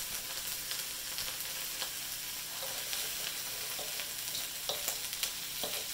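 Chicken and broccoli frying in a wok, a steady close hiss of sizzling oil with occasional light scraping and stirring accents throughout.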